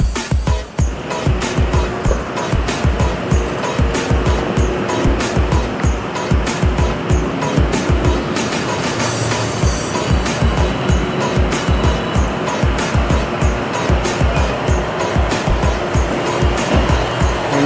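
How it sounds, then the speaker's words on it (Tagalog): Steady roar of city road traffic heard from a moving motorcycle on the Aurora Tramo stretch of EDSA near the NAIA Expressway on-ramp, with constant engine and tire noise and frequent short passing bursts, loud and continuous throughout. "grabe ang traffic"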